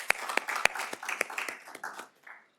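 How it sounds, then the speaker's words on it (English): A small audience at a county boards and commissions appreciation ceremony applauds, a few sharp, loud claps at first, then scattered clapping that thins out and fades to quiet within about two seconds. "please give yourselves a round of applause for that"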